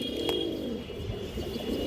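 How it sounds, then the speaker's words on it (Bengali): A large silver male pigeon coos in low, soft, rolling murmurs, close by and alone, with a faint high whine in the background. "একটা প্যার আছে সিলভার নর বেজিমাদি কবুতর"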